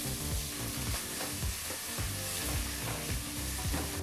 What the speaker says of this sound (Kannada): ಹೀಗಿಲ್ಲಿ ಈರುಳ್ಳಿನ ಒಂದು 3 ನಿಮಿಷ ಫ್ರೈ ಮಾಡಾಯಿತು